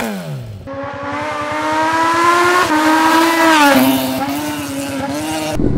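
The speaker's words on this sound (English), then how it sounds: "Check naman natin ang Akrapovic exhaust ng GSXS 1000." A Suzuki GSX-S 1000 motorcycle with an Akrapovic exhaust starts up and revs hard, rising through a loud, raspy, pulsing drone with sharp throttle blips, close and unbroken.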